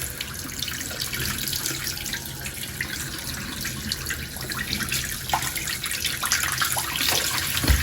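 Plant roots, an alocasia being moved from soil to hydroponics, are rinsed under a running tap, a steady close rush of water splashing into a sink with no pauses.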